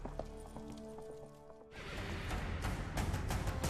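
A horse in The Witcher 3 sets off and breaks into a gallop, hooves pounding in a rapid rhythm that grows louder and denser after a quieter opening with musical tones.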